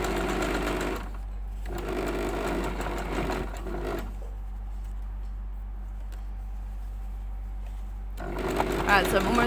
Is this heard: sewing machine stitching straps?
yes